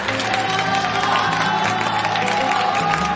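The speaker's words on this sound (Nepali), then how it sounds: "सबैले ताली बजाइरहेका हुन्छन्।" Friends break into applause at a surprise, a continuous wash of clapping that holds steady at a loud level over a background of tonal music throughout.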